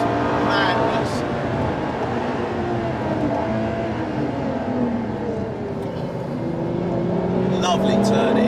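Ferrari LaFerrari hybrid V12 supercar accelerating hard on a race track after a downshift into third, a loud sustained engine roar with rising pitch, heard from inside the cabin as someone speaks over it.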